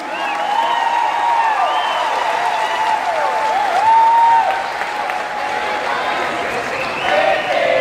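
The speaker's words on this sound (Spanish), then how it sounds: "Un aplauso de bienvenida a Pepe a nuestra jornada." Welcoming applause for Pepe Mujica at a Latin American and Caribbean political gathering, a loud continuous roar of clapping from a large crowd with cheers and whistles, sustained throughout.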